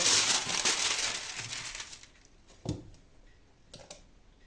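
Baking paper crinkles and rustles as freshly baked angel wing cookies are handled, a dense close crackle for the first two seconds, then fading to a few isolated crisp crinkles and taps.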